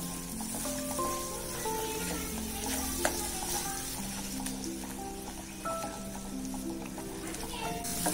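Beaten eggs fry in a pan while a spatula stirs and scrapes them, making soft intermittent clicks over a low sizzle, with steady tonal sounds that may be music in the background.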